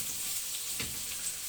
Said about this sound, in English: I leave the onion on a high flame and fry them.